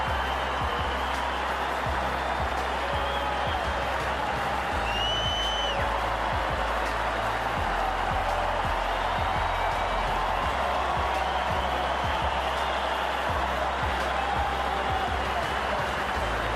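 At a PFC sportsman night in 2019, a crowd applauds and cheers steadily for the whole stretch, a dense continuous roar of clapping and voices over a low hum, with some talk mixed in.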